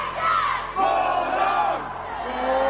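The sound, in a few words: fans shouting Bulldogs cheer at gymnastics meet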